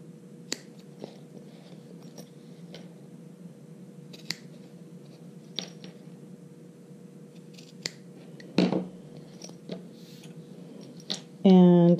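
Scissors trim fabric seam allowances at a sewing table, making faint, scattered snips over a low hum and ending with a short louder burst.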